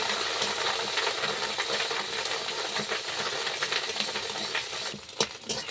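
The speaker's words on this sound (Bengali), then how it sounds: "তেলের মধ্যে দিয়ে দিলাম মাছের ডিমটা আমি অনবরত নাড়তে থাকবো" Fish roe frying in hot oil and stirred continuously, a steady loud sizzle with rapid clicking scrapes of the spatula against the pan, a few sharper knocks near the end.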